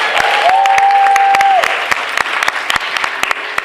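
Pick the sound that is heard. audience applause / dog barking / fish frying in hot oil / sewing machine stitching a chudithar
audience applause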